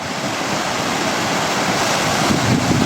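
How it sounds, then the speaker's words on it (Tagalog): Heavy ocean surf at Wawa, Abra de Ilog, Occidental Mindoro roars continuously, a broad rushing wash of breaking waves with wind noise, loud and close. "Pero sa lalaki ng alon dito sa amin."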